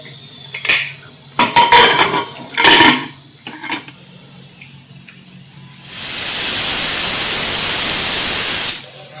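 Pressure cooker on a gas stove: a few metallic clinks of utensils and lid, then a loud, close steam hiss from the whistle that rushes steadily for about three seconds before cutting off abruptly.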